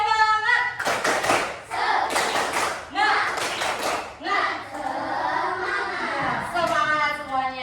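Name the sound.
class clapping a rhythmic cheer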